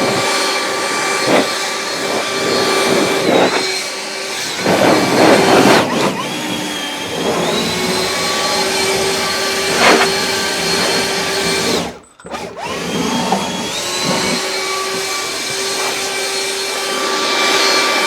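A small handheld leaf blower with a down-angled nozzle runs continuously with a loud, close whining roar and a high tonal hum, dipping briefly once before resuming at full strength.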